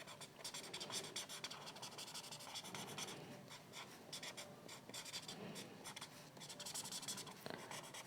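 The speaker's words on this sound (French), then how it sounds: "Il y en a qui aiment colorier comme ça." Pencil colouring on paper for a home-decor craft: a steady, close scratchy rubbing of graphite strokes, continuous for about eight seconds, with short pauses and changes in pressure between strokes.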